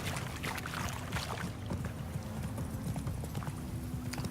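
Hooves of Roach, Geralt's horse in The Witcher 3 game, clip-clop at a steady walking pace, close and continuous under a soft ambient background.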